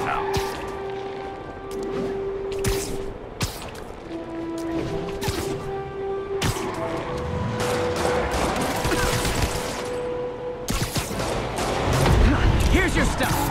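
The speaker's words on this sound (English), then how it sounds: "we have reports of gunfire coming from multiple vehicles" Gunfire from several vehicles in the Spider-Man PS4 video game: sharp, scattered bangs and clattering impacts burst through a busy mix of game sounds and steady tones, growing louder toward the end.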